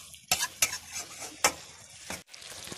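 Mutton curry stirred in a pot with a metal spoon, giving a series of close, uneven scraping and clinking strokes over a low sizzle, with a brief hush near the end.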